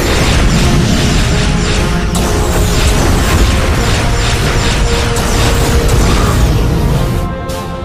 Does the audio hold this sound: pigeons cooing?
no